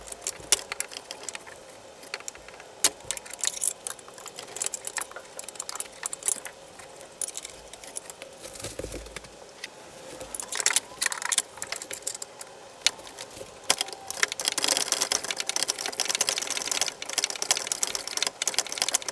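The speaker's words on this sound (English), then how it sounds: "broke it loose with one of these flexible head wrenches here" A flexible head ratchet wrench works loose a bolt during a car's rear camber arm install, giving rapid, uneven bursts of metallic clicking close by with brief pauses, louder toward the end.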